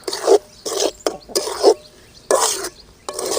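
A spoon scrapes through thick mushroom gravy with fresh coriander leaves in a pan, about six distinct stirring strokes in an uneven rhythm, close and clear with no talking.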